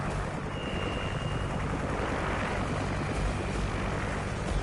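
Video-game helicopter, a steady droning rotor and engine roar that holds constant throughout, with no talk over it.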